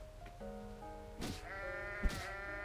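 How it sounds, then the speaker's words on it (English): Sheep in a video game bleat twice in quick succession, short nasal cries standing clearly over a soft background of game music, with a small thud between them. "More sheep down there."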